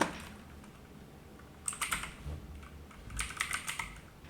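Quick bursts of typing on a computer keyboard, two short clusters of crisp close clicks separated by a quiet pause, alone without speech.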